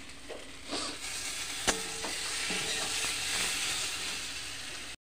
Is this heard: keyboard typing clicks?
no